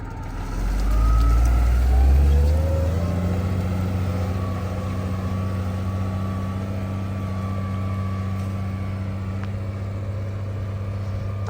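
An MTZ-80 tractor works a reversible plough through a corn field, its diesel engine a deep, loud, steady drone that swells early and then settles into a constant labouring rumble with no speech.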